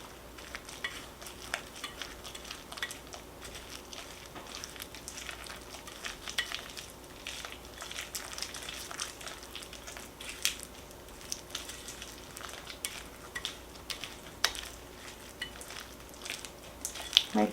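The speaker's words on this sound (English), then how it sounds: "all I'm going to do is whisk it together" Cake batter made with a cup of fruit cocktail is whisked in a bowl, giving a steady, close scraping and tapping rhythm that runs continuously, with small clinks against the bowl and no talk.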